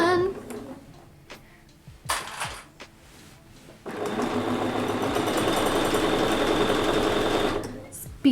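Sewing machine stitching quilt binding, first a few slow starts and clicks, then a sustained fast whirring run lasting several seconds close by, with speech over parts.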